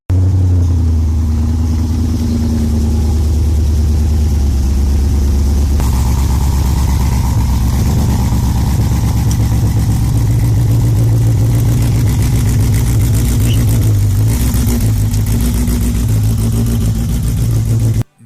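A Polish Arrinera Hussarya mid-engine sports car rumbles loudly and steadily, a deep close engine note with occasional blips of throttle sustained for about eighteen seconds without speech.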